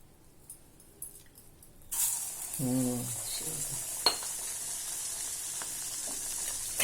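Karaikudi kara poori, a spicy puffed snack, drops into hot oil with a sudden, steady hiss of frying, broken by a few soft clinks and scrapes of a utensil against the pan.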